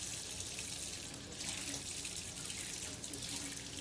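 Hot water running from a tap for soaking ground flaxseed, a steady broadband splashing stream that holds an even level throughout, close and alone without talk.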